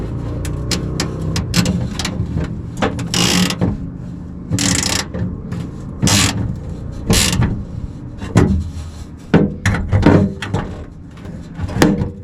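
Bolt being tightened on a 1966 Plymouth Belvedere, a long run of metallic clicks, ratcheting and clanks in irregular bursts, close and fairly loud.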